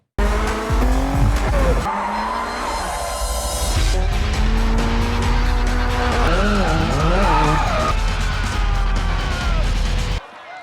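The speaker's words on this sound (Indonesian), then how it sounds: "Hingga tiba balapan melawan Marimoto" Race cars drifting through a race against Marimoto, from The Fast and the Furious: Tokyo Drift, including a Corolla 86, with loud sustained tire squeal and revving engines that swoop up and down, ending abruptly.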